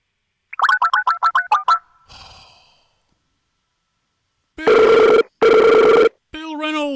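A home phone number being called rings out in rapid warbling bursts, then two long, loud buzzing rings follow after a pause, with a brief voice-like tone at the end.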